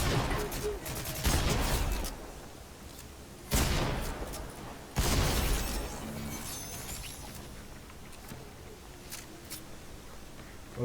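Gunfire in a video game, with three loud broadband bursts of shots hitting hard, followed by lighter scattered crackles and faint rattling between them.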